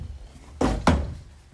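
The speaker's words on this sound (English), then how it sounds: "I tried to make a grand entrance and then the doors kind of knocked" Two hollow wooden knocks, about a quarter second apart, as a pair of small double doors in the master suite of a modular home swing open and bump, close and alone in a quiet room.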